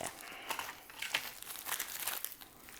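Plastic packaging crinkles and rips as it is torn open by hand, a close, quiet run of crackling tears.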